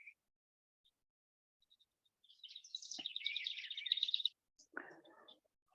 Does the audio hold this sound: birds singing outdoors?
yes